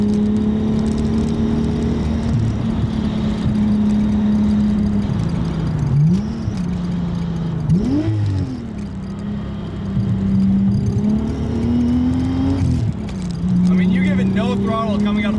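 A VR6-swapped Volkswagen Mk2 GTI hatchback drones steadily from inside the cabin while cornering, its engine note rising and falling with throttle and shifts, as a driver talks throughout.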